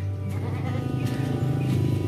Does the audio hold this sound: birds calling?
no